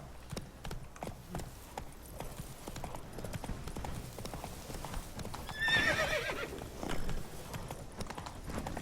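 Roach, the horse in The Witcher 3 video game, gallops with rapid rhythmic hoofbeats and gives a loud whinny partway through, up close over a low game background.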